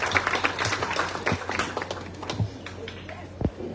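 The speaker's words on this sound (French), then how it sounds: "Nous applaudissons le frère Simon Alphonse." An audience at a school centenary ceremony claps in a loose, scattered patter of hands that stays moderately loud through the few seconds. Room noise sits behind the claps.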